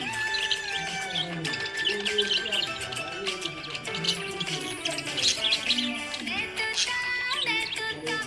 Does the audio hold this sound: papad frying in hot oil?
no